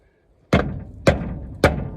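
Three sharp metallic knocks of a hammer tapping a brake drum on a 1964 Chevrolet Impala, evenly spaced about half a second apart, each with a short ringing decay; no voices.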